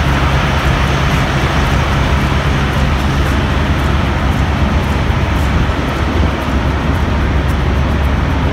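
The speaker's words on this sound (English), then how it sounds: "Some big trucks." Big trucks pass at a Flying J truck stop: a loud, continuous roar of engines and road rumble fills the whole stretch without letting up, and no one speaks.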